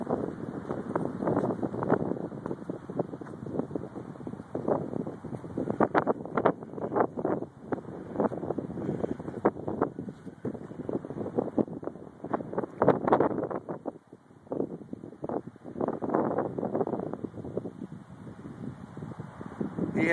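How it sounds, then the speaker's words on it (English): Strong gusty wind buffets the microphone outdoors on a cold day of about 39 degrees with winds near 20 miles an hour, loud rushing bursts rising and falling throughout with no talking. "on a windy day"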